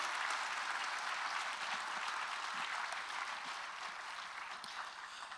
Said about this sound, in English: Can I get one more huge round of applause for all of our speakers this morning?